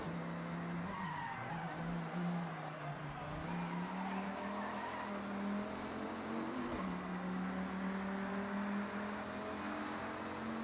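Dodge Ram SRT-10 pickup with its Viper V10 racing in Forza Horizon, a steady loud engine drone rising and dipping with gear changes, with tire squeal through the turns.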